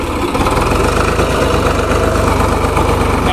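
A steady, loud diesel tractor engine chugs at idle with a throbbing low rumble, close by, no voices.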